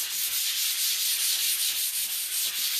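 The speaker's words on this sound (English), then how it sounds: "I'm just going to take my Dixie Belle sanding sponge. These are really fine sanding sponges. It's a 220 grit" A fine 220-grit Dixie Belle sanding sponge rubs over a painted buffet, giving a steady close scratchy hiss in even back-and-forth strokes with no pauses.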